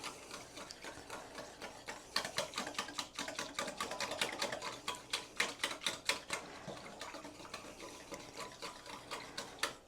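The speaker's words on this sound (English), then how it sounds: "we're just going to whisk them together" A whisk beats egg yolk and ricotta cheese together in a bowl for pancake batter, giving a quick run of close, sharp rhythmic clicks and taps that grows busier after the first couple of seconds.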